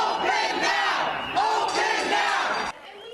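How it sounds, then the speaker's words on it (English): A crowd of protesters on the Capitol steps, many of them hairdressers angry over the state's reopening plan, shouting and chanting together in loud, sustained, rhythmic bursts that cut off abruptly near the end. "people took to the steps of the Capitol today to protest the state's reopening"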